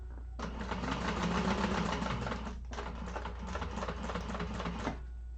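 A sewing machine runs a basting seam across the bottom of a bag at top-stitching length, a steady close whirring stitch in two long runs separated by a brief pause, with no talk.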